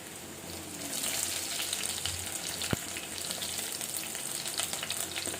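Crushed garlic frying in hot oil with ginger for a Kerala-style sardine curry, a steady close sizzle with crackling bursts and one sharp clink of a utensil against the pan.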